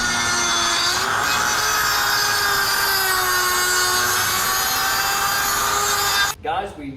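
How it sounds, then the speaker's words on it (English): A Dremel rotary tool with a grinding bit grinds the edge of soft aluminum during a Honda Trail 125 USB port install, a steady high whine held for several seconds, close and loud, cutting off abruptly near the end. "we're going to use a Dremel with a grinding bit"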